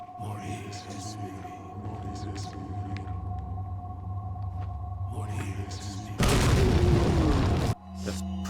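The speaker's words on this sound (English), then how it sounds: "this is a perfect time to use a grenade" A grenade blast in Resident Evil 4 bursts out loud and broadband for about a second and a half, cutting sharply through a steady game soundtrack and ambient drone before the music resumes.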